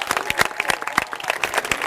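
An outdoor crowd at a public housing grand opening celebration applauds young speakers, with dense, steady, close clapping throughout and no voices over it.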